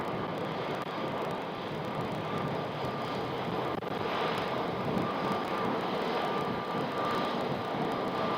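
A WestJet airliner at Phoenix Sky Harbor airport gives off a continuous, broadband engine rumble and whine at a moderate distance, steady throughout with slight swells and no speech.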